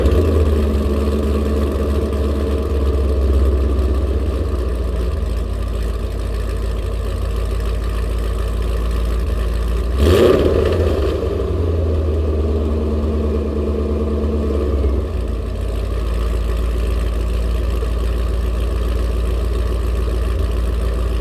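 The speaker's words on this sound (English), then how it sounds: "Billy Boats installed, cold start." A C5 Corvette Z06 fitted with a Billy Boat exhaust idles steadily after a cold start, a deep, loud, continuous burble with a brief rev blip partway through before settling back to a rumbling idle.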